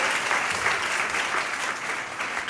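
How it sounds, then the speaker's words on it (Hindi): Loud applause at a college ceremony, a thick unbroken roar of many hands clapping at once, steady and close throughout. "एक जोरदार ताली उनकी उस महान सोच के लिए"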